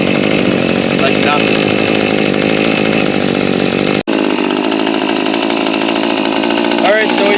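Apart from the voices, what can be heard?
Maruyama MM24 trimmer engine starting and idling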